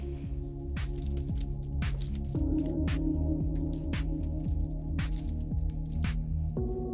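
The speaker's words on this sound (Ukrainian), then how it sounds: "І тепер я викладаю на пергамент і отак от чавлю стаканом." Boiled food, cooked in lightly salted water, is pressed flat with a glass on parchment paper, giving soft repeated squishing and crinkling presses close by over a steady low background hum.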